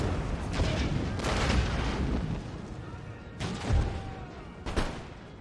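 Cannon and artillery fire from Empire: Total War, a run of heavy booming shots with loud blasts near the start, middle and end over a continuous battle din, with speech partly mixed in.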